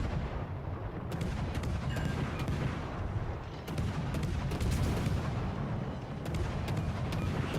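Warship main guns firing in World of Warships: Legends, a dense stream of booming blasts and rumbling explosions in a naval battle, rapid high rate of fire with sharp cracks over continuous low roar, loud and close.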